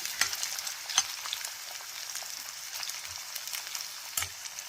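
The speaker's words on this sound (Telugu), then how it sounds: "నూనె వేడిగా ఉంటుంది కాబట్టి దొండకాయ ముక్కలు కొద్దిగా వేగితే చాలండి" Ivy gourd pieces fry in hot oil with a steady close crackling sizzle, joined by occasional stirring clinks and scrapes.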